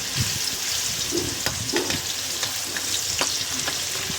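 Ginger pieces sizzle and crackle steadily in hot oil in a pan, with occasional stirring scrapes and small pops close by, and no talk.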